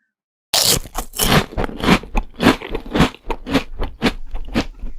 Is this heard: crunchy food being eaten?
yes